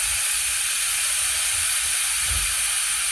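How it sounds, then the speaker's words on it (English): Steam hisses steadily and loudly from the pressure release valve of a pressure cooker cooking jerk pork, a constant broadband rush without a break, with faint low rumbles underneath. "so all the steam has been released"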